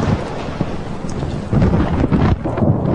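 Deep rumbling thunder from a lightning strike, a broad loud roll with wind-like buffeting and a heavier surge partway through, heard alone without voices.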